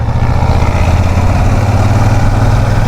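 Royal Enfield Super Meteor 650 twin-cylinder cruiser with a double-barrel exhaust pulling steadily in third gear, a loud, close, continuous engine drone with a deep throb and no voices.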